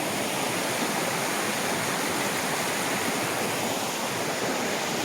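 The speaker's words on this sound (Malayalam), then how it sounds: "തോട്ടുനിന്ന് വെള്ളം ചാടുന്ന ശബ്ദമാണ്" Water from a stream pours over a drop with a dense, constant roar that stays loud and close throughout, with no voices.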